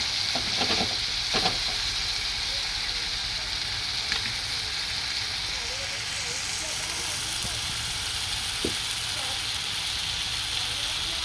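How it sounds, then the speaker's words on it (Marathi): Masala frying in oil in a home kitchen pan for a dried fish curry, a constant close sizzle with occasional scraping stirs and a voice talking over it. "त्याला चांगलं तेल सुटेपर्यंत परतून घेऊया"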